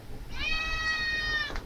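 A house cat gives one drawn-out meow, rising then holding steady for just over a second, close and clear above a low background hum.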